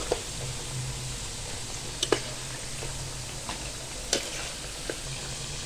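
Halved potatoes for aloo baingan fry in hot oil in a pan, giving a steady, low sizzle throughout with a few faint clicks and small taps from the cookware.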